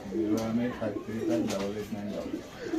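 Pigeons in a loft give soft, repeated rolling coos, several birds overlapping close by at a moderate level.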